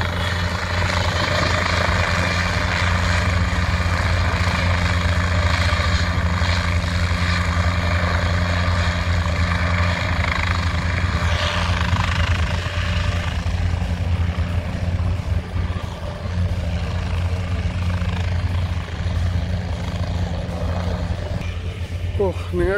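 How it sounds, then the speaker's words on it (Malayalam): A helicopter at Duxford Airfield in Cambridge runs loudly and steadily nearby, its rotor and engine drone filling the air as it readies for takeoff, with a voice talking over it. "ഈ ഹെലികോപ്റ്റർ പോകാൻ റെഡിയായിട്ടിരിക്കുന്നു"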